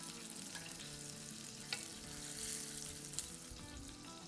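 Burger patties fry in a pan on the stove with a steady sizzle, broken by a few soft clinks of a utensil.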